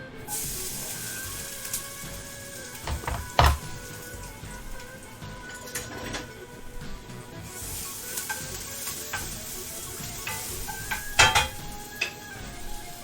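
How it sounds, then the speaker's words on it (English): A hot pan on a stove sizzles steadily with scattered clanks and scrapes of utensils against it, including a sharp knock partway through. "Let's do a little saute action here."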